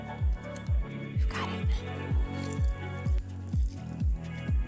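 Lemon juice for lemon bars drips into a bowl in a quick, regular rhythm of distinct drops, close and clear over a faint background hiss.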